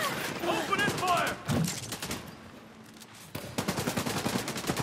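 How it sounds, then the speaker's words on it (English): A minigun defense turret in the video game The Division 2 rattles off rapid bursts of gunfire, dense stuttering volleys broken by brief pauses, mixed with in-game voices and effects. "I'm just gonna get on a minigun defense right now."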